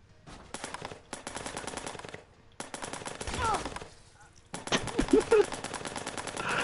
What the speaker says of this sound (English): You shot him with a paintball gun